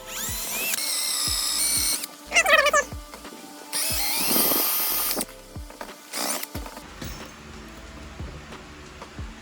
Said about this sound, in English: I'm going to drill one singular hole right here